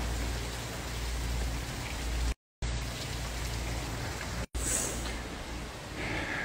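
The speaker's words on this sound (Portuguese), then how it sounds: "Devido à forte chuva que caiu aqui." Heavy rain pours down steadily at a show site in Juranda, Paraná, a dense continuous hiss of falling water broken only by two brief dropouts.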